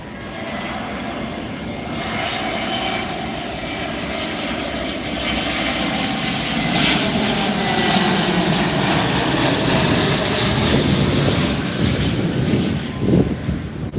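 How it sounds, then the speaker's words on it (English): A Delta Airbus A321neo airliner arrives at Tampa airport, its engines a loud, steady roar that swells slowly over about fourteen seconds with no talk. "This is a Delta A321neo coming in from LAX."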